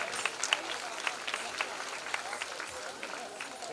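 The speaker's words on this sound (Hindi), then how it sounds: "आप लोग तालियां बजा रहे हैं।" Devotees at a Shiv Mahapuran katha religious gathering clap together in a steady, fairly even rhythm, crisp claps at moderate loudness with a voice speaking over them.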